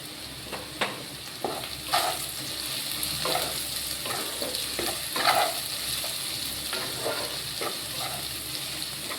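Potatoes frying in a pan, a soft, steady sizzle close by with repeated stirring scrapes and light clatter throughout.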